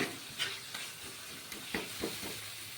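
Spice paste with onion and green chili frying in oil for a rohu fish kalia, a steady close sizzle with a few sharp stirring scrapes and knocks spread across the clip.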